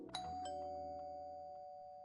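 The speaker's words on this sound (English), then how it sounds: "Who's ringing my doorbell?" A video game doorbell rings with a bright two-tone chime, the second tone ringing out in a long clear sustain; heard alone and fairly quiet, with no talking.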